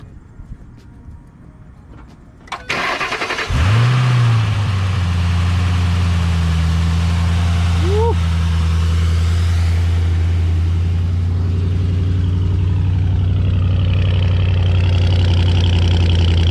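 A Ford Mustang engine cranks and catches with a loud starter burst, then settles into a steady, deep idle that holds close and unbroken, with one brief rising rev partway through.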